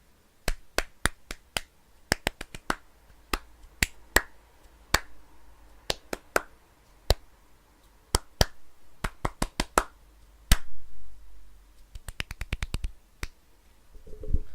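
Finger snaps stand in for applause, a sharp, close series of single dry clicks with an irregular rhythm and a quick burst near the end. No voices are heard.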